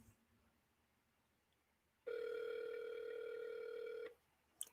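A telephone call ringing unanswered: near-silence, then one steady electronic ring tone lasting about two seconds before cutting off, followed by a short click.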